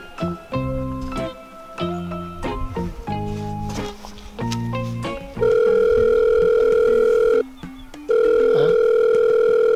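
Telephone ringback tone on an unanswered call in a Telugu village comedy, a steady loud tone that runs in long repeated bursts after background music, with a brief gap between rings.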